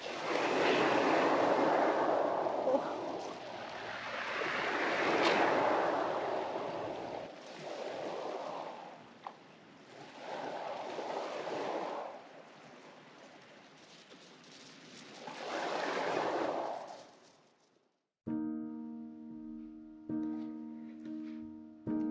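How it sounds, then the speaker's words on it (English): Cold winter sea by cliffs at sunset, air around 2 degrees: slow surges of waves wash in and recede in several soft, rushing bursts separated by quieter lulls, followed at the end by gentle tonal music. "I'm gonna head in for a swim now."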